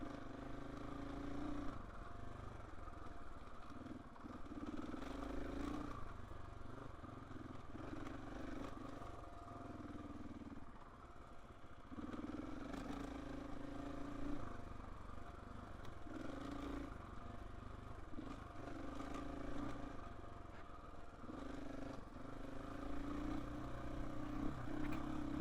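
A KTM 450 EXC-F dirt bike engine on a trail ride drones steadily up close for the whole stretch, its low, even running swelling and easing slightly with throttle changes.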